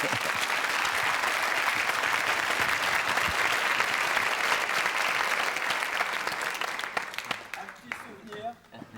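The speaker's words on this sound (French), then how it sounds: "On peut applaudir à nouveau Bernard Hinault" Sustained audience applause for cyclist Bernard Hinault on a French TV set, loud and dense for most of the stretch before thinning out near the end, with a voice emerging as it fades.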